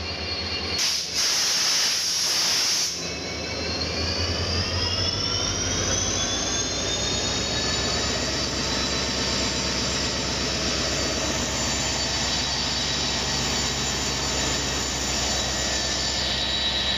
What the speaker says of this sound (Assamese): ট্ৰেইনৰ চাউণ্ডটো, ইঞ্জিনটো ষ্টাৰ্ট হৈ আছে